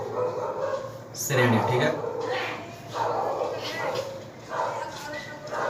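A dog barks repeatedly in bursts during a class, sharp yips and bow-wows over a man's ongoing speech.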